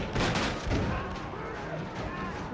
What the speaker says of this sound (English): But imagine then hearing bang, bang, bang.